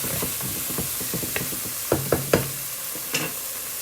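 Vegetables tossed in a hot pan give off a soft, steady sizzle, with a series of light clinks and knocks as the pan and food are moved.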